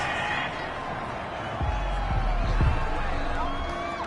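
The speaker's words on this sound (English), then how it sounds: "This home crowd, they're happy with that call." Home crowd in a PS4 football video game cheers loudly after a penalty call on third down, a sustained roar rising midway with whoops, under commentary-style talk.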